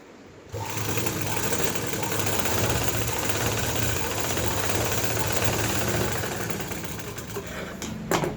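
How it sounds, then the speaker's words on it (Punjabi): Sewing machine running a final line of stitching along a dress with lace trim, a loud, close, steady rapid chatter that starts abruptly and continues unbroken, easing off slightly near the end. "ਫਾਈਨਲ ਸਲਾਈ ਦੇਖੋ ਜੀ ਆਪਾਂ ਇਹਦੇ ਉੱਪਰ ਲਾਤੀ ਹੈ ਸਲਾਈ"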